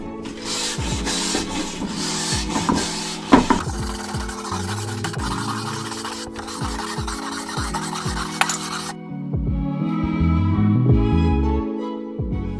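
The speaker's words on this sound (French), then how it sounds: "venir creuser le veinage de bois avec une brosse métallique, avec des fils de fer relativement épais" A wire brush with fairly thick steel bristles scrapes along wood grain to open it for a white limed finish, heard as loud, close, rough rasping strokes in repeated runs with brief pauses and a few knocks.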